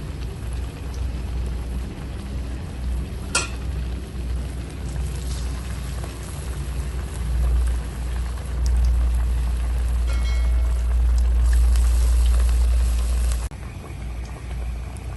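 Aloo tikki potato cutlets frying in hot oil, a steady close sizzle and crackle throughout with a low rumble underneath, swelling louder toward the end before easing off, with no voices.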